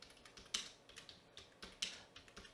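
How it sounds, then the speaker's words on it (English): Faint, close typing on a computer keyboard, light irregular key taps with a couple of sharper strokes, at a radio operator's station with no talk. "Let's type in hello back"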